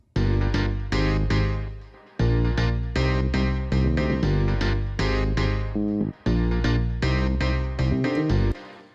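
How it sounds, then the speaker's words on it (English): A punchy, rhythmic bass line pulses in a funky dance groove, pausing briefly twice before picking back up, played alone without vocals, produced in Ableton Live. "I added the bass, which sounds like this."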